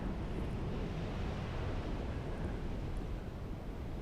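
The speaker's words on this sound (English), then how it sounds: "The wind's really rough. It's blowing pretty hard." Strong wind buffeting on a rough ocean shore on Hawaii's Big Island, a steady broadband roar of gusts and surf, constant and fairly faint, no voices.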